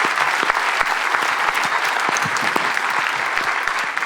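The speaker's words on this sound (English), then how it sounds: "My family clapped way louder than that." Sustained audience applause from a live conference crowd, a dense steady wash of many hands clapping at even loudness for several seconds with no talk over it.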